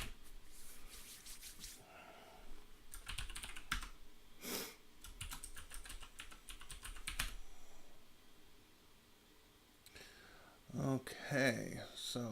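Clicks of a computer keyboard typed in short bursts nearby, with some rubbing and hand noise, then a person talks briefly near the end.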